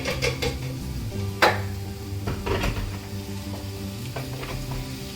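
Vegetables sauté in a hot pan, a steady sizzle with a few sharper crackles and clatters of stirring against the pan, close and moderately loud with no talking.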